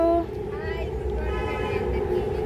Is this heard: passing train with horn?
yes